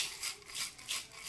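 A homemade shaker made from a painted bag tube filled with rice: soft, close swishing rattles of grains, shaken in an even back-and-forth rhythm of about four strokes. No talking.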